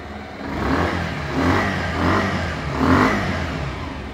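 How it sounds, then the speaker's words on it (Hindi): A 2024 Bajaj Pulsar 150 motorcycle engine idles and revs several times in short bursts, the revs rising and falling close by. "इंजन साउंड कैसा लगा प्लीज़ कमेंट करके जरूर बताइएगा"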